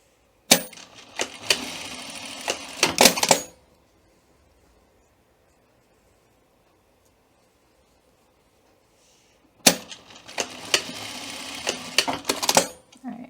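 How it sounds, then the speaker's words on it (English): A sewing machine stitches a quarter-inch seam across the end of a welt, two close bursts of rapid mechanical whirring with a short quiet pause between them. "we're going to sew across each end a 1/4 inch seam allowance"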